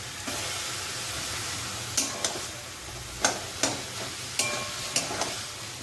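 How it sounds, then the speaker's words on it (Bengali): Spice paste of ginger, cumin, ground coriander and chopped onion sizzles steadily in a pan. A few sharp clicks and scrapes of stirring sound close by, with no talking. "আর এখন মশলাটা ঢেলে দিলাম। মশলাটার মধ্যে আছে আদা, জিরে আর একটু ধনে বাটা, আর অল্প পেঁয়াজ কুচিয়ে দিয়েছি"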